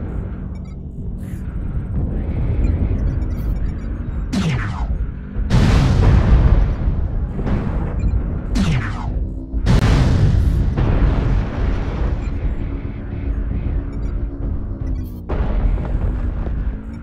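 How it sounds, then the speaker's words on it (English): Artillery strike explosions in a video game, a run of heavy booms and bursts of varying strength over a constant rumbling battle din, some loud and near, with whistling descents before several impacts. "Artillery strike activated."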